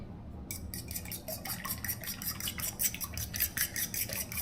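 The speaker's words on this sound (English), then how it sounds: "we are going to lightly beat these eggs" Four washed eggs being lightly beaten with a utensil in a bowl, a steady series of quick clicking taps repeating for several seconds, close and fairly quiet over a low background hum.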